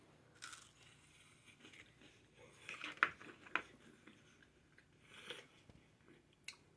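Crunchy garlic Parmesan bread, seasoned and buttered, is bitten and chewed close to the mic, a few sharp crunches scattered among quieter chewing in a hushed room.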